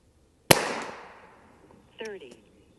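An FX DRS .22 caliber PCP air rifle fires once at a 50-yard target, giving a single sharp crack that fades quickly, followed by a brief voice.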